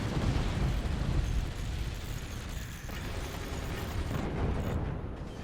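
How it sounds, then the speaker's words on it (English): Heavy mortars fire in a strategy video game, a dense, rumbling barrage of booms and mechanical clatter that stays loud and continuous throughout, without speech. "See the heavy mortars firing and missing, which is unfortunate for Robber Fox here."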